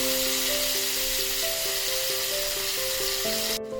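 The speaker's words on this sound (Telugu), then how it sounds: "ఉల్లిపాయల్ని గోల్డ్ కలర్ వచ్చిందాక వేయించుకోవాలండి." Sliced onions fry in oil left over from frying fish for a brinjal and dry fish curry, giving a steady, fairly quiet broadband sizzle with soft tonal music running underneath the whole time.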